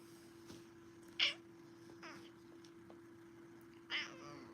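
Cranky house cat named Moose gives two or three short, whiny meows at moderate distance, spaced a few seconds apart against a steady low hum in a quiet indoor room.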